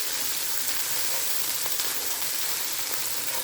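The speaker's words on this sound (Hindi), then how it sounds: "तो 1 से 2 मिनट जो है हम अदरक लहसुन को भूनेंगे ताकि इसका कच्चापन जो है वो दूर हो जाए।" Ginger garlic paste frying with onions and cumin in hot oil, a steady, close, dense sizzle that holds without pause and without voices.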